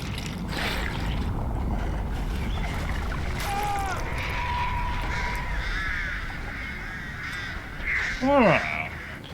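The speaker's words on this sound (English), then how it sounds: "her power is sending those like black ink birds at people" Black ink birds from the Artist's power in the video game Dead by Daylight, cawing like crows: several harsh caws and swooping cries over a steady, noisy game background, with a louder cluster of calls near the end.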